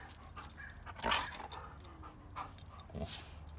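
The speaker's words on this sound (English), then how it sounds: "Woof. A woof." Huskies making soft woofs and whimpery yips indoors, a scattering of short, close vocal bursts with a brief jingle, fairly quiet and with no talking.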